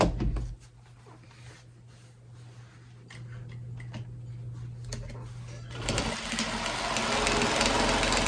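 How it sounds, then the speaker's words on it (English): Close sewing-machine stitching along marked lines on a handmade gift: quiet ticking and intermittent mechanical clicks at first, then a louder, steady run of machine noise over the last few seconds. "Now we're gonna sew down our lines now."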